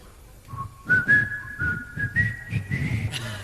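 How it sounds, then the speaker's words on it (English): A person whistles a short tune live on stage, clear sustained notes moving up and down through a brief melodic phrase, with light background noise between notes. "I'm going to whistle, and then I'm going to ask you to whistle"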